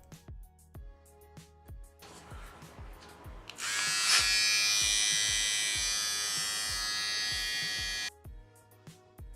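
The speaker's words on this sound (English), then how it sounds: "Let's connect the power cord to the trimmer and see how it's performed." A Philips BT3221 corded trimmer switches on and gives a steady, high electric buzz for about four seconds, close and loud, after faint ticking and clicks, then cuts off.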